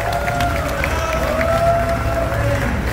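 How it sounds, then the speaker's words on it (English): Crowd noise at a medieval cage fighting event with armoured sword fighters, a loud, dense roar of cheering and clapping with shouts and whistle-like cries mixed in, close and continuous. "Applause for this fighter."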